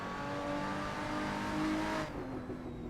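Supercharged Lotus 3-Eleven engine in the Assetto Corsa racing game, revving hard with a steady, rising tonal whine that cuts back abruptly near the end, loud and alone.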